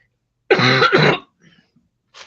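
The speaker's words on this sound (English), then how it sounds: "Sorry, I'm coughing." Two quick, harsh coughs close to the mic, followed by a few faint breaths and a soft rustle.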